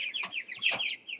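Young chickens in a pen cluck in a rapid, close run of short, bright calls that have recently lost their chick squeak. No voices can be heard.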